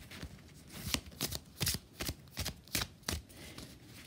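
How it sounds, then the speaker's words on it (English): A deck of magical unicorn oracle cards is shuffled by hand, giving a series of crisp riffling slaps in an uneven rhythm, close and fairly quiet, with no talking. "So I'm going to give them a bit of a shuffle."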